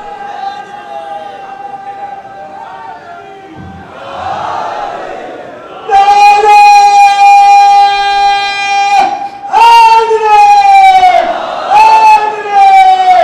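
A crowd at a 2019 religious gathering at a dargah in Jogipura shouts a slogan together in loud, sustained unison bursts, with a lone voice leading and massed voices answering several times over reverberant amplification.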